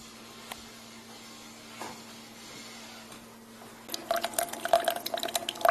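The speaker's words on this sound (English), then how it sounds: "we'll watch it at least begin to brew" A Hamilton Beach The Scoop single-serve coffee maker hums quietly, then starts brewing with a rapid patter of coffee dripping and trickling into the cup, close and fairly soft.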